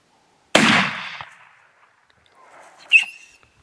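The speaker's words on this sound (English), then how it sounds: "You always get a fright when that shot goes off." A single loud rifle shot fired on a kudu and springbok hunt in South Africa, a sharp close crack with a decaying echo, followed by a fainter second report a couple of seconds later in an otherwise quiet setting.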